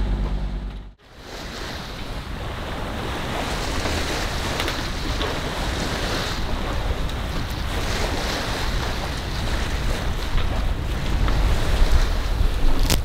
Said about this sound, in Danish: vinden kommer direkte fra syd af